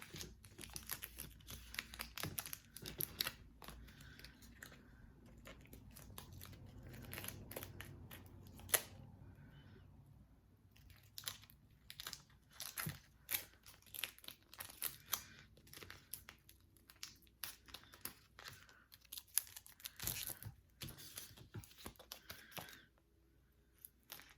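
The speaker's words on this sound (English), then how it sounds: "Now I'm gonna go ahead and trim the leftover tape." Repeated sharp snips and crinkly cutting sounds from scissors trimming tape, close and irregular, with brief quiet gaps between bursts.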